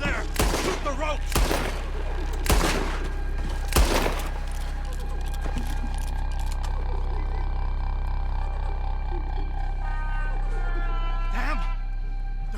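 Loud gunshots in Red Dead Redemption 2, several sharp blasts in the first four seconds followed by scattered shots, with shouting voices and tense game score underneath.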